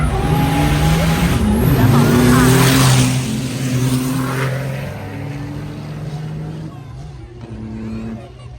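A ten-wheeler truck at a truck race at the Ratchaburi track roars loudly and steadily up close. A deep engine drone holds throughout with some wind-like rush, and voices can be heard faintly underneath.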